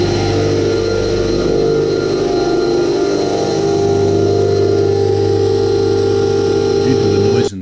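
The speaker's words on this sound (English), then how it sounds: "Due to the noise in the engine room during the test" Loud machinery roars steadily in the engine room of a rotary dairy milking system under test, a constant droning hum with tonal whine that cuts off abruptly at the end.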